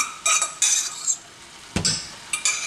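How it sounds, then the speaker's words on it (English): A metal utensil scrapes repeatedly across the bottom of a pan of chicken stir-fry rice in short, bright, harsh strokes, up close with no voices. "Sorry about the scraping noise on the bottom of the pan."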